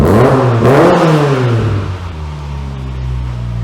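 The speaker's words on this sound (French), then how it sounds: "je vais mettre quelques coups de gaz" Sharp throttle blips from a Volkswagen Golf R32 engine rise and fall in quick succession, loud and close, before it settles into a deep, even idle without any talking.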